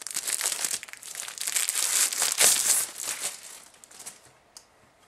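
Plastic packaging crinkles and rustles as the box for a Griffin Elevator stand is unpacked, a dense, continuous close-up crackling that fades out toward the end.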